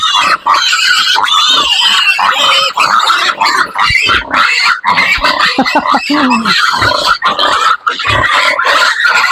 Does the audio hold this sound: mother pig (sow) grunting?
yes